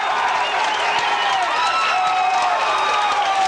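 Sustained applause and crowd noise at the 1982 PBA Seniors Championship bowling event after a strike, a steady, loud wash of clapping and cheering filling the whole moment.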